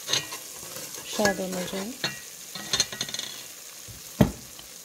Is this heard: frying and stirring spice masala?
yes